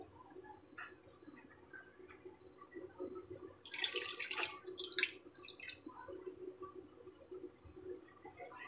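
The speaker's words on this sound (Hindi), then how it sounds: "इसलिए मैं इसमें 2 कप" Water is poured from a tap into a cooking pot for chicken biryani rice, a splashing rush in the middle over a faint kitchen hum, with drips before and after.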